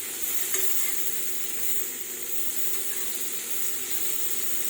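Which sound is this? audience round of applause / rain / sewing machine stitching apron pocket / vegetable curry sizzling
vegetable curry sizzling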